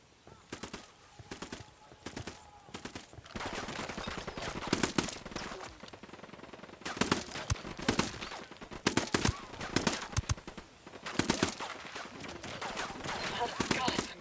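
Rapid gunfire in a Ghost Recon: Wildlands co-op firefight: dense overlapping automatic bursts and sharp shots crackle steadily for the whole stretch, loud and busy, with no talking.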